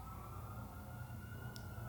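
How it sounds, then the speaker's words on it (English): A siren wails steadily in the distance over low rumbling street traffic, continuous and fairly faint. "Should we hold for the sirens?"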